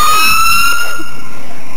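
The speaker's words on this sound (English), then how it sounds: "And an ambulance going past us." An ambulance siren wails loudly nearby in a street, its tone sweeping and then dropping away as it passes.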